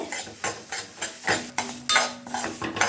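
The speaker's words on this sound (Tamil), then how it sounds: "இப்போ அதையும் சேர்த்துட்டு நல்லா கைவிடாமல் வறுத்துக்கோங்க" Semolina is dry-roasted in a pan and stirred briskly, giving quick, rhythmic scraping strokes about every third of a second with a faint sizzle underneath.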